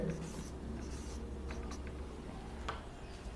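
Someone writes math on a board during a class lesson, making soft, scratchy strokes in short bursts. The strokes sit under a faint background voice.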